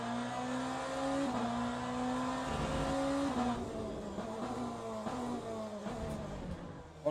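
Race car engine in the Le Mans Ultimate sim racing game, holding a steady high drone with gear-change steps and shifting pitch as it accelerates and lifts, loud and continuous with no talk.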